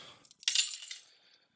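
A beer bottle cap comes off and glass clinks, a short bright metallic rattle and chink heard close and alone in a quiet room.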